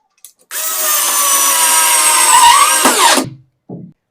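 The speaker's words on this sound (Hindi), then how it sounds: "वुड के अंदर यह मशीन बड़े आराम से काम करती है।" An Ingco cordless screwdriver drives a 2-inch screw into wood with a steady, loud motor whine that holds for nearly three seconds, then winds down with a short grinding release. A small clack follows. No one speaks.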